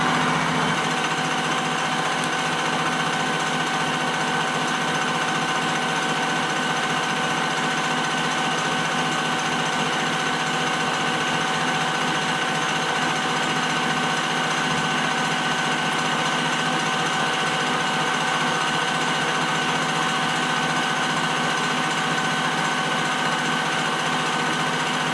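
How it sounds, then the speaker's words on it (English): A Bridgeport milling machine takes a finish cut, a constant loud mechanical whine with a steady droning hum that holds unchanged throughout, no speech. "I'm gonna take a finish cut backwards"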